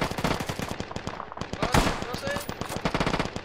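Rapid machine-gun bursts in a WWII tank battle video game at Narva, a dense, steady chatter of shots firing close and loud with a brief heavier blast midway.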